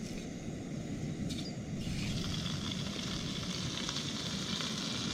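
Bacon frying in a pan outdoors, a steady dense sizzle crackling continuously at moderate level with no one talking.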